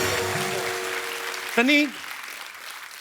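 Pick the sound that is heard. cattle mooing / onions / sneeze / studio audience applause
studio audience applause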